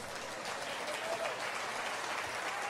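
An audience at a religious teaching gives a sustained, dense round of applause, steady and fairly loud throughout, with faint voices mixed in.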